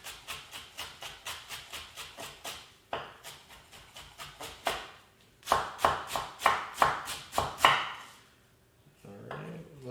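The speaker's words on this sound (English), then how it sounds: "so we'll get the chopping." A knife chopping cilantro on a cutting board in a home kitchen, in quick rhythmic bursts of crisp close thuds separated by short pauses, with no talking.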